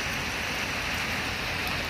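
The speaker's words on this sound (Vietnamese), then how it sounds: "Giờ mình nghỉ mình ngắm mưa xíu nha các bạn. Chung bữa nay bão." Heavy storm rain pours steadily and evenly, a dense unbroken hiss of drops hitting surfaces all around, with no voices.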